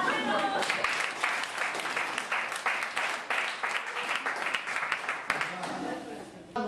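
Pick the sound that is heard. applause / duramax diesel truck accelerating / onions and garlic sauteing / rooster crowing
applause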